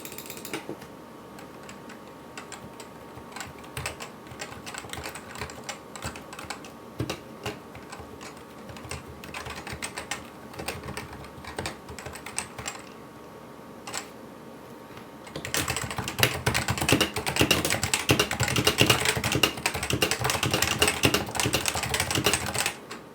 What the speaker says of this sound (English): typing on a NovaTouch is super quiet, unbelievably smooth and effortless